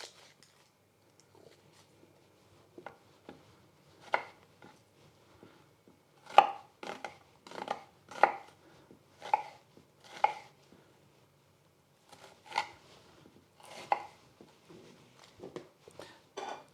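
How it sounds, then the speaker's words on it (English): Knife chopping ingredients for prawn masala on a cutting board, a series of crisp, fairly close taps and cuts in loose irregular bursts with quiet pauses between, no talking. "You need these to be coarsely chopped. So I'll just cut them in half."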